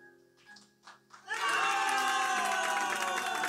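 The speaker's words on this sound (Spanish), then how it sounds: "Fuerte los aplausos." Applause and cheering erupt at a surprise birthday serenade: after a quiet second of soft voices, a loud, sustained crowd roar of clapping, shouts and whoops fills the room.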